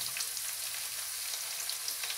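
Onion fries in a pan with a constant, close hiss and fine crackling sizzle, steady and unbroken with no talking.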